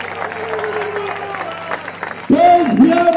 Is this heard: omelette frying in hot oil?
no